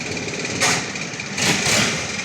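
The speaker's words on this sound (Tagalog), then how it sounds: "grabe yung andar ng makina guys" A loud engine runs at a steady, continuous roar during a tour in Thailand, swelling twice for a moment, with no talking over it.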